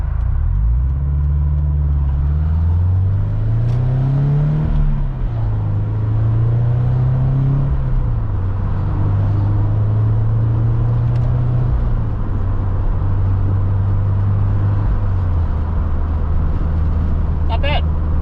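A car fitted with an FTSPEED unequal length header pulls through the gears, its deep exhaust rumble rising in pitch, dropping at each shift and climbing again, heard from inside the cabin, with a voice briefly speaking over it.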